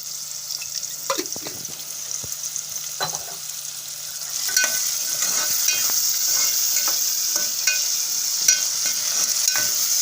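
Onion and tomato softening in oil for Schezwan chutney, a continuous close sizzle with regular spoon scrapes and taps against the pan as the mixture is stirred.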